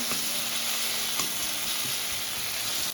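Tomatoes sauté in a pan for a Bengali pabda fish curry, a steady bright sizzle and hiss of frying juice with faint scraping stirs underneath, continuous and close.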